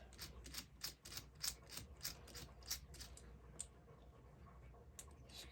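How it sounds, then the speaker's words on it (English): A screwdriver working small screws loose, a quiet run of rapid ratchet-like ticks and clicks in an irregular rhythm that thins out toward the end, heard close up with no talk. "we have our screwdriver. First order of business is going to be to see if it'll remove these."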